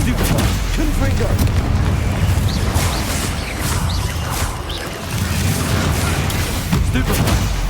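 Spell explosions from Bombarda and Confringo in Hogwarts Legacy, a dense run of booming blasts and crashing impacts filling the whole stretch under an excited voice calling out spells.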